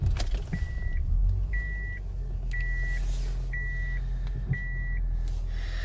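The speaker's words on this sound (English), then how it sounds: "We'll start the car up." A 2010 Honda Accord EX 2.0 i-VTEC automatic sits with a steady low hum, while five evenly spaced electronic chimes sound through it. The car is heard at close range with no talk.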